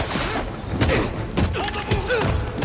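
Rapid gunfire bursts and heavy thuds from the Spider-Man 2 video game, loud and close, with game voices and effects overlapping the shots.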